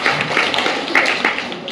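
Children in a storytelling and skills class give a short burst of scattered hand claps, light and close, lasting under two seconds.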